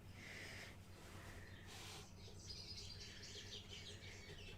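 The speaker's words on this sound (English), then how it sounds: "I'm hearing birds." Birds chirp from trees in front of the house, faint, high twittering calls scattered through the clip over a low steady hum, with no talking.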